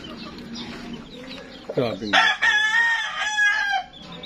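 Rooster crowing loudly up close, a long strained call in the middle, with hens clucking beforehand and someone speaking briefly, likely at a gamecock farm.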